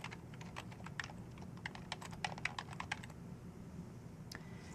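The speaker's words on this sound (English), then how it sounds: "Type in your email." Quiet clicking on a computer keyboard as an email address is typed, an irregular run of close key taps that pauses near the end, with one final tap.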